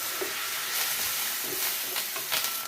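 Onions, green chilies and curry leaves fry in a pan, making a steady bright hiss and sizzle with faint crackles, close and continuous, with no talking.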